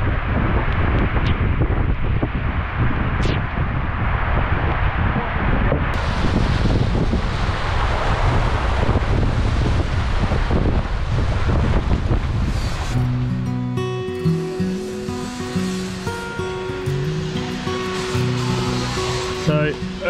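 Strong wind gusts roar across the deck of a sailboat under construction, loud and close in the microphone, then ease as a more sheltered spot is reached, where a person talks.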